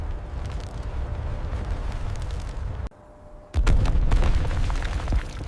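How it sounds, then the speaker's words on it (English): An M1 Abrams tank fires a 120mm training round: a loud rumbling roar cuts briefly to near silence, then a massive close-range boom hits and rolls out into a long, heavy reverberating rumble. "The tank rocks back on its suspension from the immense recoil."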